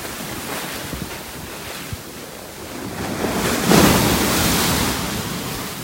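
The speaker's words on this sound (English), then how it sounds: "These are some big waves." Large waves roll onto a Gulf Coast beach during a tropical depression, a loud, continuous roar mixed with wind buffeting the microphone, building to a heavier crash near the middle and then easing.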